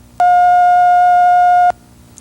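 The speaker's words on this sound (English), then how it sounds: "you press the pause or stop key on the playback unit when you hear a tone like this" A single steady electronic cue tone from a playback unit, signalling to pause, holds one even pitch for about a second and a half, loud and clean against a quiet background.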